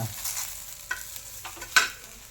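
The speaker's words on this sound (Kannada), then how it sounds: "ಇಲ್ಲಿ ಬೆಳ್ಳುಳ್ಳಿ ಫ್ರೈ ಆಗಿದೆಯಾ ನೋಡಿ" Garlic frying in a pan for an okra chutney, a soft sizzle with a few sharp spatula taps and scrapes, close and fairly quiet, no talk.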